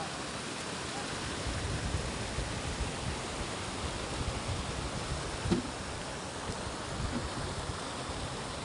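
A river surrounded by trees flows steadily, a continuous broadband rush of water that stays even and close throughout, with one brief faint knock partway through.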